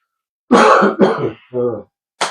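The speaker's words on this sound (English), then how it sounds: "I have to cough again." A few throat-clearing bursts and a cough, close and fairly loud, separated by brief pauses.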